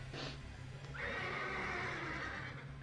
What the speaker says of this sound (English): Yeah, I don't know why there's horse sounds.